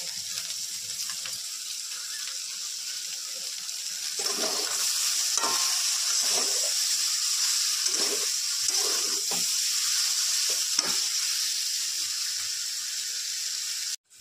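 Soyabean fried rice sizzles steadily in a pan as sugar goes in, a loud continuous frying hiss with intermittent scraping and stirring knocks throughout, close up with no talking.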